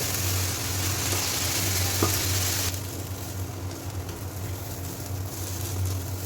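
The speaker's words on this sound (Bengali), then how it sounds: "চাল ডাল ভালো করে একটু নেড়ে চেড়ে নিব।" Rice and lentils stir-fry in hot spiced oil for khichuri, a steady close sizzle with scraping stirs; partway through the sizzle drops sharply to a softer, duller hiss.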